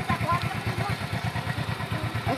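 A motorcycle engine chugs close by in a steady, rapid low pulse like a fast idle. The running sound carries on throughout, with a rough clattering texture layered on top of it.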